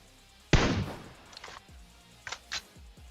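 Gunfire rings out in the video game PUBG Mobile: one sharp, loud crack, then a few fainter, shorter bursts spaced over the next two seconds.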